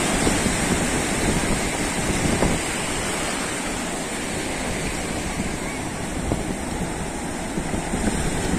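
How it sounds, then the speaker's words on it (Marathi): Sea waves surge onto a beach near a coastal village, a dense, continuous roar of surf mixed with buffeting wind, steady and fairly loud throughout with no clear breaks between waves. "लाटांचे गाज, उंदळणाऱ्या लाटा"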